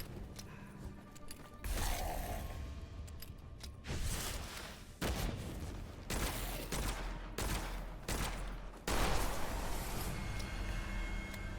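Rapid bursts of gunfire from a gun in the Witchfire shooter game, loud repeated volleys separated by short pauses, with mechanical clanks and thumps between shots.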